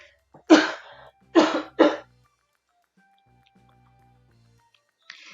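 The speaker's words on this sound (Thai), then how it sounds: "เดี๋ยวครูขอไอจามนิดนึง" A teacher coughs three times in quick succession during an online computing lesson for fourth graders, loud and close, followed by near silence.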